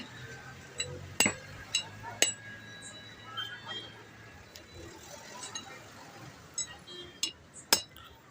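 Sharp metallic taps as a steel axle cone is driven into the rear axle of a Mahindra Maximo, several distinct clinks spaced irregularly over a low background hum.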